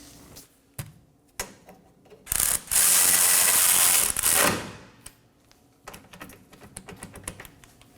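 A ratchet wrench clicks in short bursts, then runs in a rapid, loud continuous stretch while snugging the front control arm bolts on a 2015-2023 Nissan Maxima rear suspension, up close with no talking.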